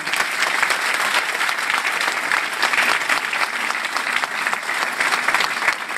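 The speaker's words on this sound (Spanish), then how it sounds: "Un fortísimo aplauso, un fortísimo aplauso." Steady, dense audience applause in a hall after a talk, loud and continuous throughout with no break.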